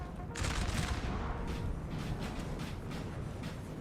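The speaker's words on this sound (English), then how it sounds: "Get some volleys off, boys. Make those Austrians taste French lead." Massed infantry musket volleys roll through a Napoleon Total War multiplayer battle at Znaim, a dense, sustained crackle of gunfire over a low battle rumble, with overlapping bursts continuing throughout and no clear speech.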